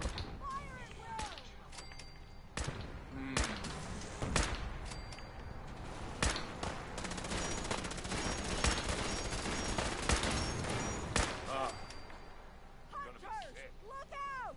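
Battle gunfire in Fallout 4 Far Harbor, repeated sharp rifle shots and bursts cracking irregularly, mixed with shouting voices and game effects, fairly close and loud throughout.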